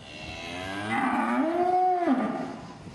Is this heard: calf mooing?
yes